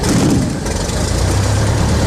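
A Cessna 172 Skyhawk piston engine running right after start-up, giving a loud, steady, close rumble with no voices.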